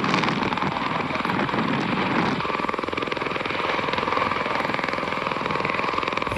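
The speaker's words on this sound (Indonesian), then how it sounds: "Ini pesawat Osprey." A toy Osprey tiltrotor aircraft with two propellers gives off a loud, steady whirring drone that holds without a break, a helicopter-like rotor roar throughout.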